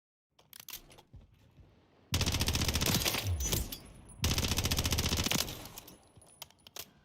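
Bursts of automatic gunfire from a gun in MWIII Zombies, two loud sustained volleys of rapid shots separated by a short pause, with a dropping shell-like tinkle in between.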